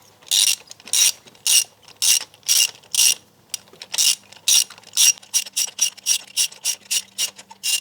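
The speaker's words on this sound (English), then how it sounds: "in order to pull the spark plugs out, I have a spark plug puller socket, 5/8 with my extension" A socket ratchet on an extension clicks in about fourteen quick, crisp bursts while spark plugs are loosened from a Volkswagen Tiguan engine, each stroke a short buzzing rattle with brief pauses between.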